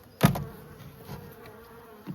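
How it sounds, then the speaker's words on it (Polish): Honeybees buzz faintly around a hive in a forest in spring, a low, steady drone, with a sharp thump near the start and an otherwise quiet outdoor background. "Zobaczcie, jakieś pojedyncze pszczoły stąd"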